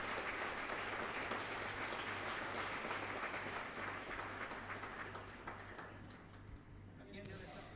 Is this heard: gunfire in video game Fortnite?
no